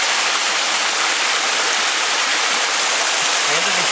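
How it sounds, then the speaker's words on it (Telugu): Water pours down Bhairavakona waterfall in a loud, constant broadband roar that fills the scene without pause, close and unchanging. "వాటర్ ఎలా ఫ్లో అయ్యి ఎలా మీకు కిందకు వస్తుంది చూసారా"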